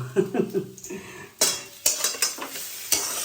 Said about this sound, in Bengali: একটুখানি নেড়ে চেড়ে নিই